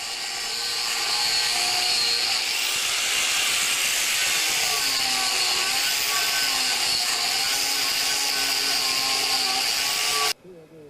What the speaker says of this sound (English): First, I had to taper the end of each log with a chainsaw disc